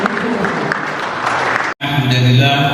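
Loud, dense applause from an audience at an anti-drug outreach event inside a prison, filling the room for nearly two seconds before cutting abruptly to a quieter, tonal passage.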